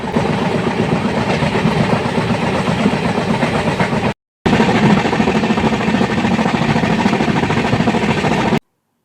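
Falaknuma Express running at 110 km/h on the Hyderabad to Kolkata route, a loud continuous rumble and rattle of the coaches with rapid wheel clatter, broken by a brief silent gap.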